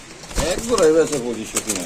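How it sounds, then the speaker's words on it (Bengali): Pigeons in a loft coo in short, warbling phrases, close and clear over faint background noise. "এখানে আছে দুই পেয়ার কবুতর"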